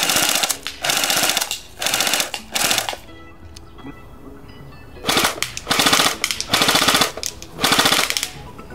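A D-boy P90 airsoft gun fires in full auto, loud and close, in about six rapid bursts of a second or so each, with a quiet pause of roughly two seconds near the middle.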